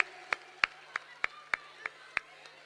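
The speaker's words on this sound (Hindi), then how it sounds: "जोरदार तालियां बजाइए आदरणीय केसी वेणुगोपाल जी के लिए" Slow, evenly spaced single claps, about eight sharp cracks, ring out over a low steady hum as applause for K. C. Venugopal at a Mahila Congress event in New Delhi's Talkatora Stadium.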